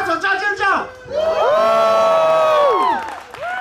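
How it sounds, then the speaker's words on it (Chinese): Crowd cheering and screaming at the 2012 Kenting Spring Scream music festival, a band leader clapping and shrieking amid loud whoops and shouts that swell, hold in a long sustained scream, then briefly dip before rising again. "我们的团长拍手加尖叫"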